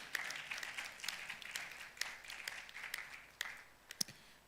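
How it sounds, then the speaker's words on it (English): An audience at a money summit gives a short round of applause, heard faint and somewhat distant, with scattered individual claps standing out over about four seconds. "A round of applause for him."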